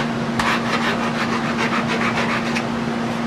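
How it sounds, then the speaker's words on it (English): A metal file rasping over a weld bump on an electric guitar truss rod, about a dozen quick rhythmic back-and-forth strokes, close up over a steady background hum. "A simple file with a couple passes will do this."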